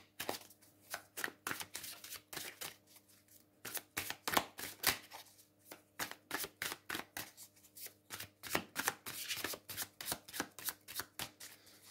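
Tarot cards are shuffled close up in quick, repeated riffling bursts that run steadily with short pauses, quiet and with no talking.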